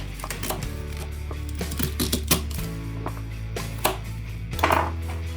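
A knife chopping celery and very large onions on a board, irregular sharp taps at close range over a steady low hum, with no talk.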